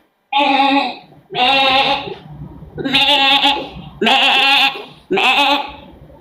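Person imitates a goat, giving five loud, nasal bleats in a row, each about half a second long and separated by short pauses.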